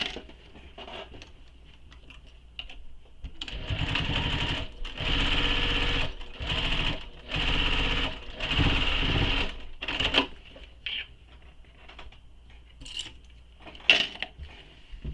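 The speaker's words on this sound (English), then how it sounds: "And then we're going to baste it in place." A sewing machine bastes a sleeve onto the side of a fabric panel, stitching in bursts that start and stop, with short pauses and light handling clicks between runs.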